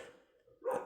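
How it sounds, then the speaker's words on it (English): A dog gives a single short bark in a quiet room, sudden and fairly close after a near-silent moment. "Sorry, that was my dog right there."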